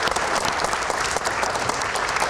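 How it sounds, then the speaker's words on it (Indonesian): Dense, steady audience applause fills a hall at a democracy forum, loud and continuous with no voices standing out. "kita berikan tepuk tangan"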